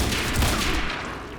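Rapid volley of gunfire from a firefight in the Quantum Break video game, dense overlapping shots filling the short stretch, loud and close, with no voices.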